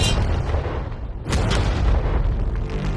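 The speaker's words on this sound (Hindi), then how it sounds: "ये 5 टैंक्स पैसों पर निशाना लगाकर 20 राउंड फायर करने वाले हैं।" A tank fires a single heavy cannon shot at stacked shipping containers outdoors, a loud booming blast around the midpoint that rolls into a sustained rumbling roar and debris noise.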